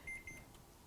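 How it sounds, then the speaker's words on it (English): A kitchen timer beeps two quick, thin tones close by, then stops, leaving a faint room hum with no one talking. "I want to get our timer here."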